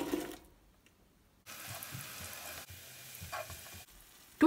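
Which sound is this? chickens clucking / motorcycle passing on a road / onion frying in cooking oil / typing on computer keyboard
onion frying in cooking oil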